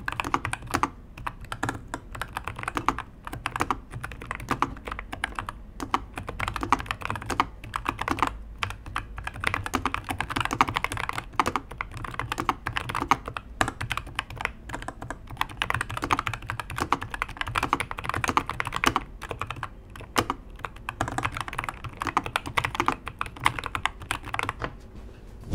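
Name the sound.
typing on Nuphy Air60 V2 keyboard with tactile Moss switches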